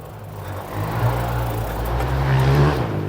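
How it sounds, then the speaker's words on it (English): Motorbike engines from a nearby motorbike club drone and rev in a forest, swelling louder in the middle and again toward the end, a steady motor roar with no voices. "You can hear the noise of motorbikes because we have nearby the motorbikes club."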